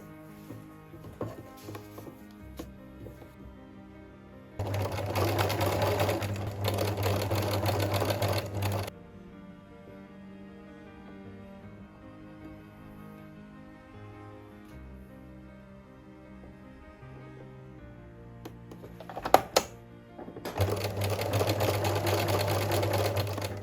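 A sewing machine stitches feathers onto a miniature skirt in two loud, steady bursts of a few seconds each, separated by a quieter stretch of faint handling and fabric rustle.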